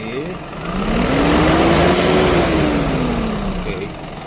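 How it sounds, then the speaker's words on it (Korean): Hyundai County bus engine revving as the accelerator is pressed, a rising then falling mid-pitched roar that swells and eases over a few seconds, heard close with steady background noise and wind. "앞에를 한번 쫙 밟으세요"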